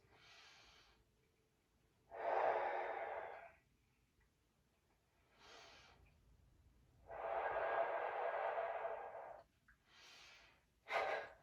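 Slow, deep breaths during a stretching routine, long airy inhales and exhales alternating with quieter pauses, close to the microphone and without speech.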